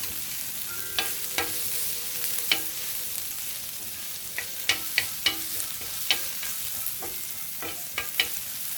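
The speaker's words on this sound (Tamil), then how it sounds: "நல்லா அதை கிளறி நல்லா வதக்கிடலாம்." Finely chopped onions sizzle steadily in a hot pan while a spoon stirs them, its scrapes and clacks landing at irregular intervals over the constant frying hiss, all close up.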